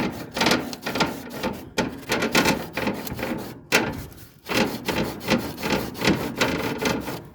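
Folded cardboard scraped back and forth across barbecue grill grates, a gritty rasping rub repeated in quick rhythmic strokes, close and steady with brief pauses.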